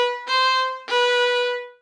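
Two bowed string notes, a B rising to a C natural, each sustained about half a second and played cleanly at close range, alone with no voices.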